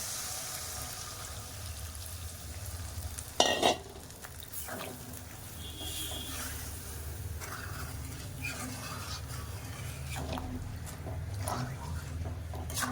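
Water is poured into a sizzling mango chicken curry made with raw mango, giving a sustained soft bubbling and stirring hiss with a brief louder splash near the start, under faint background noise.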